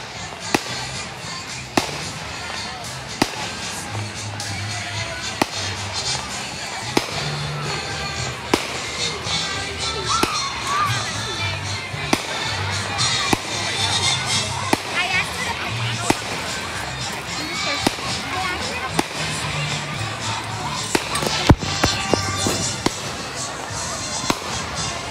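Fourth of July fireworks burst repeatedly, sharp booms and crackles scattered through the whole stretch at varying distances, with people talking and exclaiming between the blasts.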